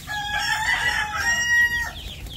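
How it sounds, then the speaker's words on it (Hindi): Farm chicks and chickens call excitedly as grain is scattered for them, a close, loud flurry of high chirps and clucks overlapping in quick bursts, with no talking. "देखिए चूजे सारे उतावले हो रहे हैं इधर दाना डालते देख के।"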